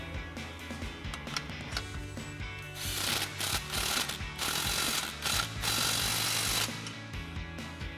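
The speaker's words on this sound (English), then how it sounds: "So we'll grab our 15mm socket on our impact and go ahead and snug that down." Impact wrench with a 15mm socket tightening an exhaust clamp on a Ford F-250, a series of short rattling hammering bursts with brief pauses, fairly quiet and close.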